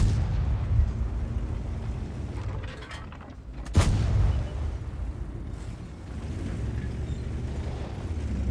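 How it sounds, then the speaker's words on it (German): A tank cannon shot in the World of Tanks video game, heard as one sharp loud boom midway through a steady rumble of engine and battle noise, with no talk. "die Su hat gerade unseren T-34 weggeräumt mit einem Schuss"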